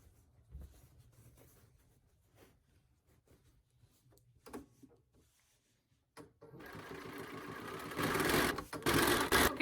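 A sewing machine runs in a loud, steady whir during the last few seconds, after quieter handling clicks and rustles.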